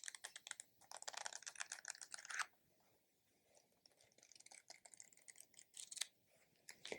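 Book pages are riffled quickly in a rapid fluttering burst, followed by softer scattered flicks, close and quiet.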